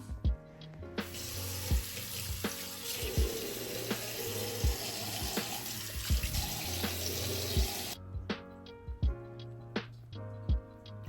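A water tap runs into a sink as a turmeric face pack is washed off, a steady rushing stream for about seven seconds that then stops, leaving light splashes and knocks, with no voices.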